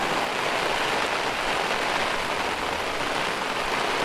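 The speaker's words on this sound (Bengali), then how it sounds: "আজ সকাল থেকেই বাইরে বজ্র বিদ্যুৎ সহ অবিরাম বৃষ্টি হয়ে চলেছে" Heavy monsoon rain pours steadily during the rainy season in the Sundarbans, a dense, continuous hiss of drops drumming on surfaces close by, loud and unbroken, with no distinct thunderclap standing out.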